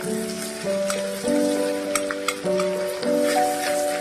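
Grated ginger paste hits a hot pan with a steady, close sizzle and crackle that swells in bursts, while a musical tune plays over it.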